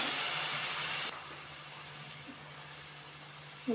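Water hits frying masala paste in a pan for a stingray curry, a loud steamy hiss that drops sharply after about a second and settles into a steady, softer sizzle.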